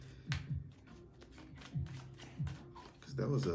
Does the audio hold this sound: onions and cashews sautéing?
no